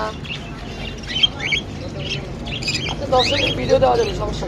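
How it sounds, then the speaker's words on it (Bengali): At a busy bird market, a myna squawks and chirps in scattered bursts, some harsh, some whistled, near and clear over a murmur of background voices and other birdsong. "এই যে ময়না বলছে দেখছেন"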